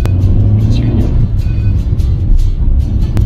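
A car with a very soft clutch drives along during a driving-lesson outing, giving a loud, close, continuous low engine rumble and road noise inside the cabin, with faint knocks and no clear speech.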